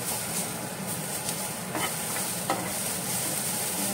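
Mutton xacuti ingredients dry-roasting in a pan, a steady close sizzle with scraping stirs over a continuous frying hiss.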